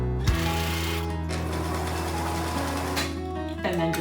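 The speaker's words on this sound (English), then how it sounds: "pull out your sewing machine and get ready to sew this pocket" A sewing machine stitches a homemade fabric face mask pocket, running in a steady continuous motor whir with a rapid needle rhythm that holds nearly the whole time, briefly easing and then resuming near the end.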